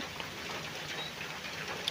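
Light rain falls outdoors on a rural farm plot, a faint, steady patter and hiss with a few scattered drop ticks, soft and even with no voices.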